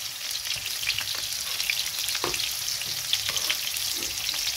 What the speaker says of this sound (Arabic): ممكن تحط البطاطس كده، بس انا ايه هقليها نص قليه